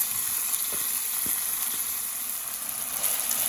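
Washed basmati rice, about two cups, being stirred into a sizzling pot, a steady close hiss of frying with a few faint spoon taps underneath, no voices.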